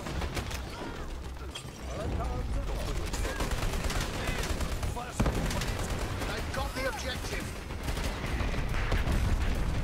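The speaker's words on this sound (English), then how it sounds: "Nice airstrike." Airstrike explosions and rapid gunfire in the shooter game Dirty Bomb, dense bursts of shots and blasts rolling continuously, with a sharp impact midway, under excited talk from players.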